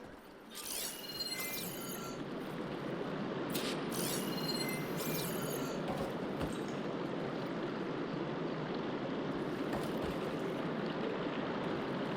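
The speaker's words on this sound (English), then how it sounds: "Aloy, I can hear water in the room again." Water runs steadily through a room in the game Horizon Forbidden West, a continuous even rush that holds at one level throughout, with a few faint mechanical clicks early on and no voices.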